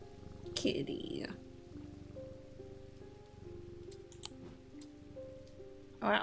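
Cat in Strange Antiquities, a soft low purr running steadily under a quiet melodic music bed, with brief louder rustles near the start and end.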